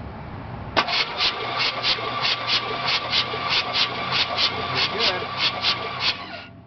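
Chevrolet 305 V8 truck engine, worn, cranking over on the starter during a compression test with no start, a steady rhythmic chug of about fifteen even pulses after a sharp onset, loud and close.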